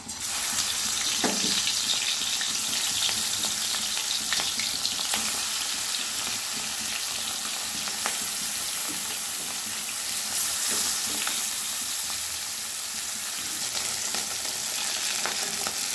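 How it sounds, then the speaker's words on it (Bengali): Pieces of katla fish frying in hot oil in a wok, a loud, continuous dense sizzle with occasional crackles and spits running the whole time. "एबार माछगुलो भेजे नेब।"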